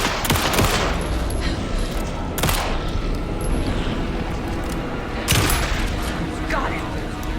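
Gunfire in Alan Wake 2, with several sharp bursts of close shots cutting through a steady tense game ambience and voices speaking between the shots.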